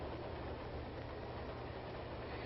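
A 1933 passenger train rumbles along steadily, a low continuous rolling drone with faint rhythmic rail clatter, heard alone at moderate distance.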